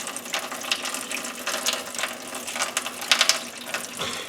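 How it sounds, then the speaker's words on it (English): Liquid is poured along the side of a pan holding a brisket until the bottom is covered, giving a steady, soft splashing trickle with a few brighter splatters. "So you pour it on the side till we get a little bit, cover the bottom of this pan."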